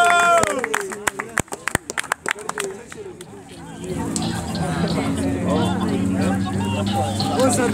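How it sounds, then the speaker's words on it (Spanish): Crowd at a freestyle rap battle tournament erupts after the round: sharp, scattered claps and shouts at first, then a thick roar of cheering and babble with music swelling underneath, loud and close. "¡Tiempo! ¡Un aplauso!"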